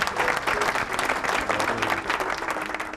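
An audience at a music concert applauds, a steady, dense wash of many hands clapping throughout, with no talk over it.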